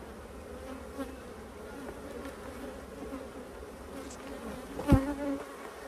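Honey bees buzz softly and continuously around an open beehive, a close, even hum with a brief louder thump near the end.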